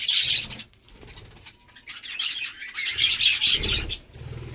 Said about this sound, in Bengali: দেখুন এই পাখিটা দেখুন বন্ধুরা, দেখুন উড়ে পালাচ্ছে